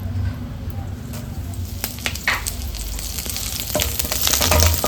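Garlic and curry leaves fry in a pan for raw mango chutney, a steady close sizzle with crisp pops and occasional stirring, growing slightly louder toward the end.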